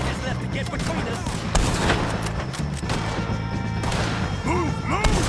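A gunfight against the O'Driscoll gang in Red Dead Redemption 2, with repeated close shots and heavy impacts cracking out in irregular bursts amid a chaotic fusillade, while voices shout during the exchange.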